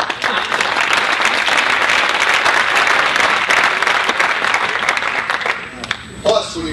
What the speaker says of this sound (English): And that is worth an applause.